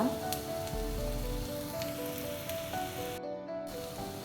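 Onions sizzling and frying in a pan with salt while making prawn curry, a steady close hiss with a brief quieter dip near the end; no talking.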